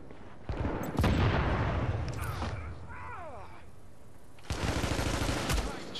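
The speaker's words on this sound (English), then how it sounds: "I just shoot and they start shooting like crazy." Heavy gunfire in The Division breaks out in loud, dense volleys, dropping into a quieter stretch before another close burst resumes; a voice speaks over the shooting.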